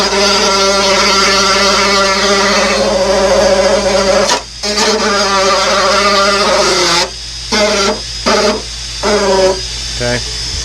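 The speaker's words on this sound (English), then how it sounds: "we're going to take our old Dremel tool and we're going to scuff this up" A Dremel rotary tool scuffs a fiberglass part before epoxy, a loud close high whine that holds steady, then cuts in and out in short bursts.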